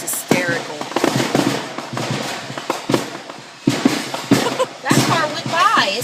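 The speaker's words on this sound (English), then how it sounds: "bajillion fireworks." Outdoor fireworks go off in a busy run of sharp bangs, pops and crackles. People talk and react excitedly throughout.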